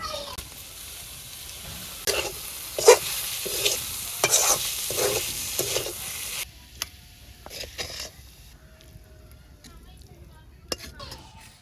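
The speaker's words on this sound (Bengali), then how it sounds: "মূলা ভাজি হয়ে গেছে আর ধনিয়া পাতা দিয়ে নামাই নেব" Radish frying in a pan in a village kitchen, stirred in a rapid run of scraping strokes over a steady sizzle for about six seconds, then quieter scattered clinks and sizzle; a voice talks in the background.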